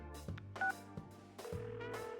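Telephone keypad tones from Persona 4 Arena Ultimax story mode, a few quiet DTMF beeps pressed in quick succession over soft background music.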